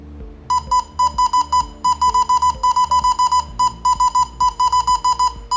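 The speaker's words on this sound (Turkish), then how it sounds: "Alt alta farklı farklı barkodlar var. Diyelim hepsini birden okutmak istiyorum." A Newland Speedata SD100 Orion 10-inch industrial tablet scans a column of barcodes, firing a fast, loud run of identical electronic beeps in quick bursts, close and unbroken by speech.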